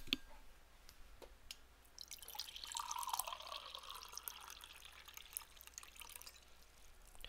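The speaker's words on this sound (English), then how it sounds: "I should probably pour myself some water." Water runs steadily into a glass at home, a soft trickle that rises in pitch as the glass fills, faint and close, following a few small clicks.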